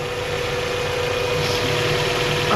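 A car engine idles with a steady low rumble and faint mechanical hum, running evenly close by with a slight lift near the end and no voices.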